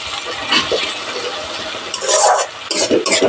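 Spices with turmeric powder are stirred in a pan for Punjabi aloo methi, giving close, scraping strokes of a spoon against metal over a faint sizzle, in a few uneven sweeps.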